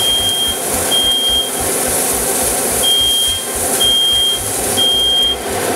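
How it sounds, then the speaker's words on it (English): Shrill smoke alarm beeps, set off by cooking, sound in a broken pattern, several long tones with a pause, over a noisy low hum. "I set off the fire alarm."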